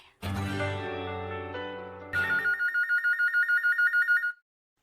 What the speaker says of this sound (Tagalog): Ayay, ang telepono.